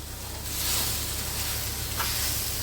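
Banana and grated coconut frying together in a pan, a dense steady sizzle close by, with a brief scrape of mixing near the end and no voices.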